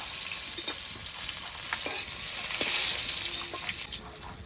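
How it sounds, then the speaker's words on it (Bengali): Katla fish pieces fry in hot oil with a constant hissing sizzle, nearby and moderately loud, with occasional pops and a surge of spattering midway. "মাছগুলো এবার ভাজা হতে থাকবে।"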